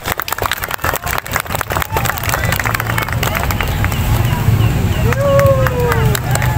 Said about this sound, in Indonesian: Ya, tepuk tangan yang meriah sekali lagi untuk tari kuntulan